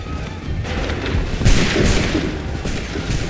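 Soldiers fire a musket volley in Assassin's Creed III, a ragged burst of overlapping booming shots with rumbling echoes, loud and close.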